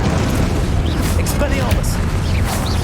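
Confringo fire spell explosions in Hogwarts Legacy bursting repeatedly in quick succession, loud and close, with shouted spell incantations layered over the blasts.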